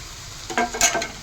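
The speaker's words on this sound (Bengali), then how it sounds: "এই নারকেলটা দিয়ে নারকেলটা একদম ছড়িয়ে দিয়ে নেড়ে রেখে দিই" A spoon stirs grated coconut through an ash gourd curry in a pan, giving a short run of soft scrapes and light clinks that follow a quiet stretch.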